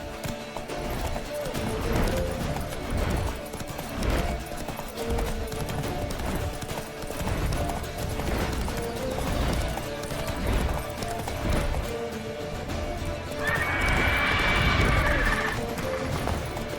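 Roach the horse gallops in The Witcher 3, rhythmic hoofbeats pounding steadily throughout amid game music and effects, with a short whinny-like burst near the end.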